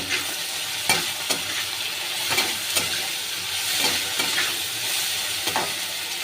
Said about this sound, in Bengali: এবার আমি এটা ভাজতে ভাজতে টমেটোটা গলে যাবে